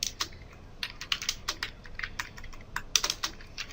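Rapid, uneven keystrokes on a computer keyboard while C code is entered, the clicks close and crisp with short pauses between bursts, no voices.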